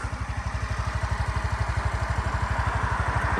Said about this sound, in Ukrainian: Заводиться, бурчить приємно, тихенько, без зайвих сторонніх звуків.